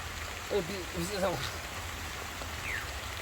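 Steady rain hisses down outdoors during a snake rescue, a soft continuous wash with a voice speaking briefly over it.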